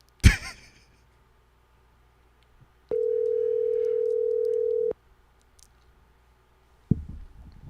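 An outgoing telephone call rings once with a steady tone lasting about two seconds and goes unanswered. Faint clicks sound before and after it on an otherwise quiet line.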